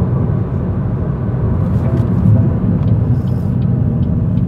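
Steady low road rumble of a 2025 BYD Dolphin Surf electric car driving smoothly, with muted tire and cabin noise and no engine revving.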